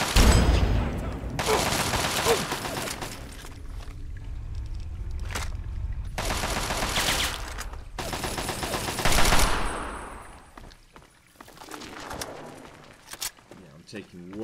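Loud bursts of rapid gunfire in Fallout 3, including a ghost rifle, come in several dense volleys with short gaps between them, alongside sounds of combat and movement.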